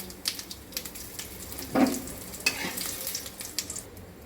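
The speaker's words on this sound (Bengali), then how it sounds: "এবার আমি এর মধ্যে কিছু জিরে, শুকনো লঙ্কা আর গোটা গরম মশলা ফোড়ন দিলাম।" Cumin seeds, dried chilli and whole garam masala temper in hot oil on low flame, a soft close sizzle with scattered pops and crackles and one brief louder spatter midway, no voices.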